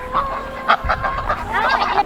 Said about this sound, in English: I was getting the eggs and letting the chickens out.